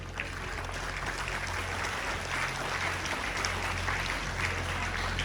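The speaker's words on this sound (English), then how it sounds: "A wide round of applause and thanks to all the participants" Sustained applause from an audience at a college inauguration ceremony, a dense, steady wash of clapping that carries on unbroken at moderate volume.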